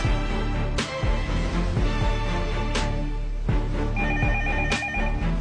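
A telephone rings in repeated electronic bursts, loud and close, with a steady ringtone pattern and no voices.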